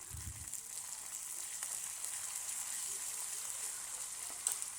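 Pepper, cumin, ginger, dried red chillies and curry leaves crackle and sizzle in hot oil for millet pongal tempering, a steady close frying hiss with light popping and no voices.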